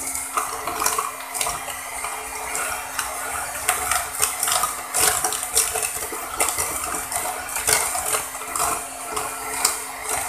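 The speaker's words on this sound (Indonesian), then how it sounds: "Kita masukin satu persatu sambil kita kocok ya telurnya." Eggs added one at a time and beaten into date butter cake batter, a steady humming drone with scattered clinks and wet splashy clatter from the bowl, close and fairly loud.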